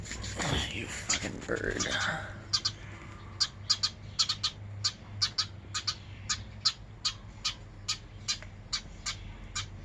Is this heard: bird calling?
yes